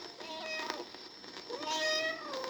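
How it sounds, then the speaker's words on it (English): A cat meows twice, close and clear, each call a drawn-out, rising-then-falling cry, separated by a short pause. "Herman, the cat."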